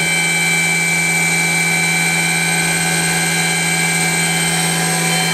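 Yama Seiki SW 32 CNC Swiss lathe with its main spindle running at 5,000 RPM, a steady, loud, high-pitched whine with a constant hum, heard up close and without interruption, with no talking.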